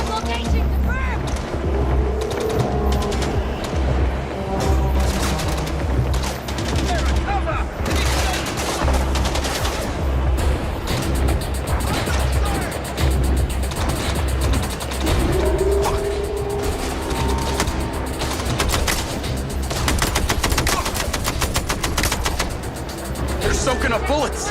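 Rapid automatic gunfire rattles through a combat firefight in the video game MindsEye, bursts overlapping with engine noise and vehicle sounds, loud and sustained throughout, with voices speaking over the action.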